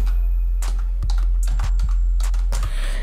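Typing on a computer keyboard, a handful of sharp key clicks spaced irregularly over a few seconds, close and clear over a low steady hum.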